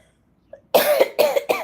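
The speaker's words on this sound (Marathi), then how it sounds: "मला खोकला लागला, ठसका लागायला लागला" A short coughing fit, three harsh close coughs in quick succession after a faint preceding sound, no speech.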